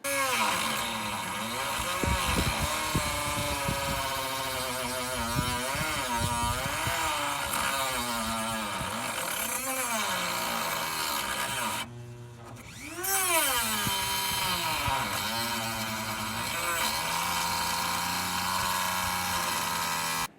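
A small cutting tool with an abrasive disc grinds steadily through a car wheel stud on a Pontiac Aztek, a loud continuous whine with shifting pitch that runs for the whole stretch, dipping briefly about halfway through before resuming.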